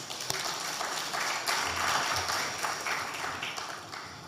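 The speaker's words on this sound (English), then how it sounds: "Please, a round of applause for her again." Audience applause at a Nigeria Health Watch close-out event, a steady wash of many hands clapping that fills the whole stretch at moderate loudness, with no talk over it.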